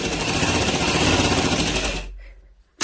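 A sewing machine stitches fabric for a baby girl's frock, a fast, even mechanical whirr running close and steady for about two seconds before stopping abruptly, followed by a brief clunk.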